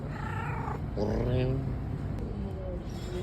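A cat meows and purrs close by over a steady low background hum, with brief chirpy vocal sounds.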